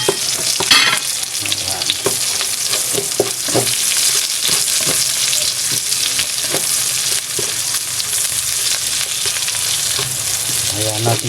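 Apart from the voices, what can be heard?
onions frying and being stirred in a pan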